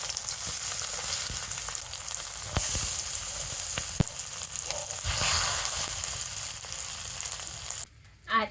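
Bottle gourd leaf paturi parcels fry in a pan with a steady, close sizzle, a few sharp clicks and taps breaking through, then the hiss drops away abruptly near the end.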